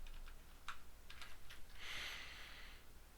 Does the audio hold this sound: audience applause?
no